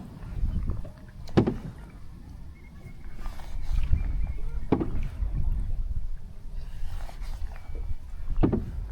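A Swift Cirrus solo canoe with an Expedition Carbon layup is paddled on open water, with soft, periodic paddle strokes and splashes over a low wind rumble.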